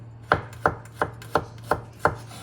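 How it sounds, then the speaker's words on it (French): A knife slices fresh garlic into thin slivers on a cutting board for a tomato tart, six crisp, evenly spaced chops close by, over a steady low hum. "Je vais couper cet ail frais en fines lamelles"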